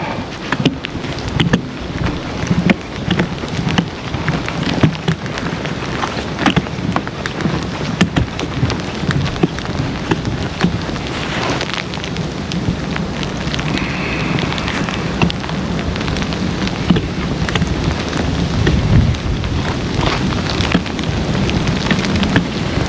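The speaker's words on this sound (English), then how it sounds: "the amount of precipitation that's coming down in the form mostly of freezing rain and mixed in with flurry" Steady heavy freezing rain mixed with snow flurries patters continuously with a dense hiss, gusty and unbroken throughout, with no voices.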